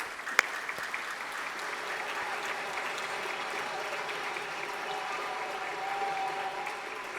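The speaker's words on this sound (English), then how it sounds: "I want you to say thank you by applauding their efforts." Applause from a seated audience at a fundraising gala, a steady wash of many hands clapping at moderate distance, sustained evenly throughout without voices.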